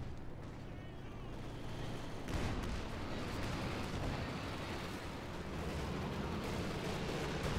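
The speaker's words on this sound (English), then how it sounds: "Watch out, grenade!" A grenade blast in the World War II strategy game Company of Heroes 2 erupts mid-match, a loud booming burst followed by sustained rumbling battle noise and scattered gunfire, with a commentator talking over it.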